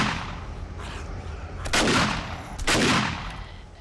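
Gunfire in the zombie survival video game 7 Days to Die: two loud, booming shots a second apart, each with a long echoing decay, over a steady background rumble.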